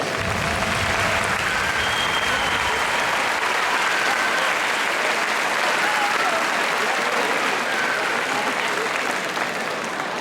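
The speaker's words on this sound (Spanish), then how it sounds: "Un aplauso, por favor, para ellos." Concert audience applauding a wind band from Hondarribia: sustained, loud, even clapping from a large crowd that holds steady for about ten seconds without letting up.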